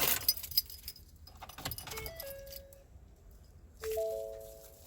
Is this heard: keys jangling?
yes